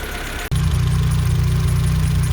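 Renault Twingo Mk1 engine idling as it warms up, a steady close low rumble with faint knocking that starts abruptly after a brief gap and runs on evenly.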